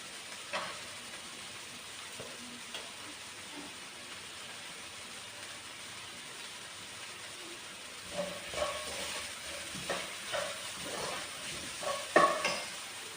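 Onions and potatoes frying in a pan for samosa filling, a soft steady sizzle with occasional stirring scrapes that grow louder and busier toward the end.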